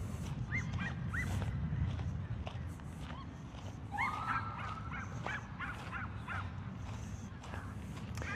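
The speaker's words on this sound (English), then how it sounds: "You can hear the dog barking" Tiny guard dogs yap in short, repeated barks at some distance across an open mall area in a tense city setting, scattered over a steady low rumble of crowd and traffic, with a few higher whimpering yips mixed in.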